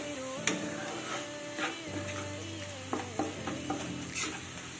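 Sliced onions with a pinch of salt frying in a pan, stirred for a minute or two: soft sizzling with intermittent spatula scrapes and clinks over a steady humming tone, no voices.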